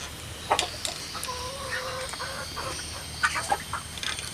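Larmot chickens on a farm clucking in short scattered bursts, moderately close against a quiet background hum, with no voices.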